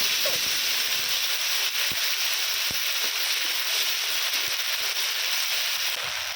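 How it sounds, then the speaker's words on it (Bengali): Ginger-garlic paste fries with onion and tomato in a pan for a shol fish kalia. A steady, close hiss of sizzling runs throughout, broken by soft, irregular knocks from stirring. "এর মধ্যে আদা রসুন বাটাটা দিয়ে দিয়েছি দিয়ে খুব ভালো করে কষিয়ে নেব"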